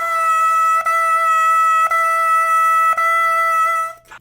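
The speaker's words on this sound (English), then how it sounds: "take just the reed and make sure it's fully soaked. And we're gonna make a single pitch on it" A soaked bassoon reed played on its own sounds a single buzzy, reedy pitch as four continuous notes, each pulsed without any gap and loud and close, before stopping abruptly.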